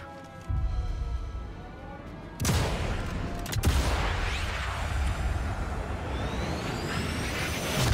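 Rifle fire in Sniper Elite 5, loud broadband shots breaking in after a quieter stretch and followed by sustained rumbling reports and echoing rattles, with no talking.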